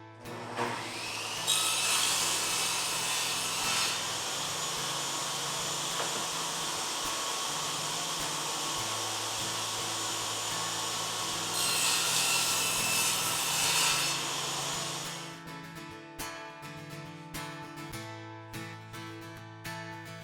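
A power saw cuts wooden rails and stiles to length against a stop block, giving a loud sustained whine across two long cuts before winding down to quieter running.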